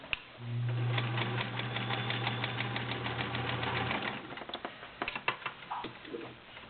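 A vintage 1970s Kenmore model 1410 sewing machine stitches through eight layers of denim with a steady, close mechanical whir for about four seconds, then stops and gives way to a few scattered clicks and handling taps.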